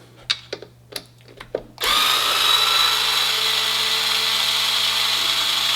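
A power driver sets the shock screw on a MACHETE after a few sharp clicks and taps, then whirs in a steady, close, loud buzz through the rest of the clip.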